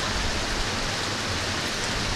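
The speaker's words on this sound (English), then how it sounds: "we're going under a rain delay" Steady rain falls during a rain delay at a Dickinson vs Post 400 Stars baseball game, a dense, even hiss with no breaks or distinct drops and no voices.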